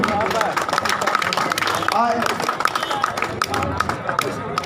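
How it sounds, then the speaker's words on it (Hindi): A crowd claps loudly and steadily at a Durga Puja celebration, with a constant hubbub of voices and someone talking over the sustained applause. "जरा जोरदार ताली से स्वागत करते रहिए आप लोग"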